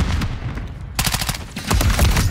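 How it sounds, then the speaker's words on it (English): Gunfire in the video game Modern Warfare 3 (MW3): short, loud, sharp bursts of rapid shots, a brief gap, then further volleys close up, with no talking. "taking effective fire."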